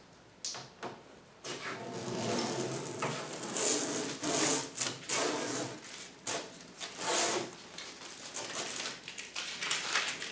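A saw cuts through a piece of bypass sliding closet door material in a series of rough, rasping strokes, close and moderately loud, with brief pauses between bursts.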